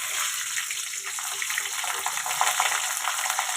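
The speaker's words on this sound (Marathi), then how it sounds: "आता आपण त्यासोबत खाण्यासाठी मिरची तळून घेऊया।" Green chilies, split down the middle, frying in hot oil for vada pav, giving a steady broadband sizzle and crackle with small bubbling pops throughout, fairly close and unbroken, with no voices.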